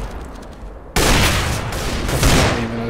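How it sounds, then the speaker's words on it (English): Rapid burst of gunfire in CS:GO fired through a smoke grenade, loud and sustained after a quiet moment, with several shots running together. "Gonna shoot through the smoke just to make it even more obvious."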